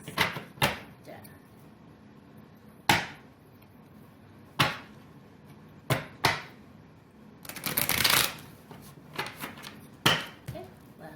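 Tarot cards are shuffled and snapped in scattered sharp bursts, with a longer riffling stretch near the end, close by over a quiet room.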